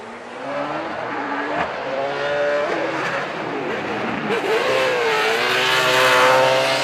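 A V8 drift car revs and wails through a Formula Drift Japan tandem run, the engine note rising and falling with throttle over tire squeal, while a commentator talks over it.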